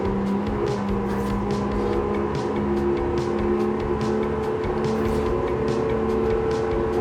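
Car engine at full throttle in the racing video game Forza, a loud, sustained high-revving drone holding steady without a break.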